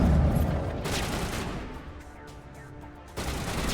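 Rapid gunfire crackles in the sci-fi shooter Mass Effect: Legendary Edition, a dense burst of shots at the start that thins into scattered fire and then swells again near the end.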